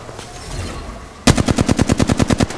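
Gunfire in Apex Legends opens suddenly after a quiet stretch as a rapid, loud burst of about a dozen evenly spaced shots from an automatic weapon, with no talk.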